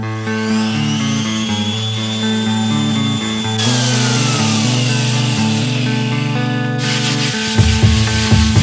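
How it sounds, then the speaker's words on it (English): Steady sanding scrubs over a raised first coat of polyurethane on a wooden pottery sink, a continuous close rasping rub lasting throughout, partly under a layer of music. "we're gonna get to sanding this first coat"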